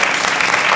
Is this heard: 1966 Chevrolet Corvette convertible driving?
no